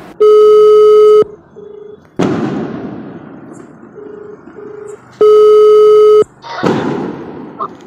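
A phone call's ringback tone sounds twice as long, loud steady beeps, each followed by a burst of crackling noise and fainter short tones in between.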